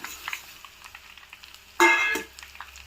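Flattened rice (poha) tossed into a hot pan, giving a brief burst of frying sizzle and stirring scrape near the middle, against otherwise quiet kitchen clatter.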